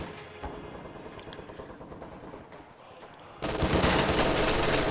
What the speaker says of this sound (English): they had 2 MG42 shooting at them